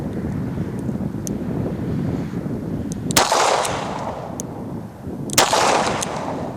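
Two sharp gunshots from a Smith & Wesson 642 revolver loaded with +P ammunition, fired outdoors, the second about two seconds after the first, over steady wind rumble on the microphone.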